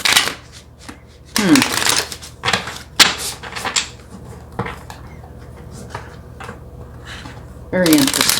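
Tarot cards are shuffled by hand in a few short riffling bursts separated by quieter handling and soft rustles, close and clear.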